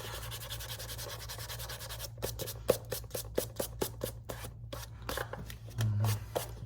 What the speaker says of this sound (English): Lightly sand away, you know, using higher and higher grits.